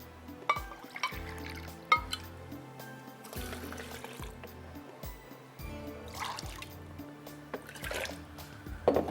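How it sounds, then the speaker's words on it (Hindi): Water poured from glasses into a bowl of sour yogurt and gram flour batter for karhi, giving intermittent splashing and dripping bursts close by in a home kitchen, with light clinks of the vessel between pours. "दो गिलास पानी इसमें जाएगा।"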